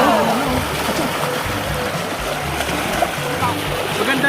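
River water at Wawa Dam rushes and splashes steadily and loudly up close, a continuous full wash, with people's voices mixed in beneath it.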